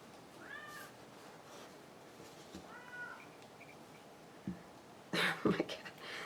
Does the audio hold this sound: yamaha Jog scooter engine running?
no